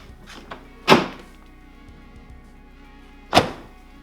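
A project car's door catches on a misaligned fender with two dull metallic thunks a couple of seconds apart, preceded by faint clicks and rattles.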